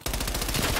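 Rapid automatic gunfire in Black Ops Cold War, a steady burst of loud, close shots repeating evenly from start to finish with no pause.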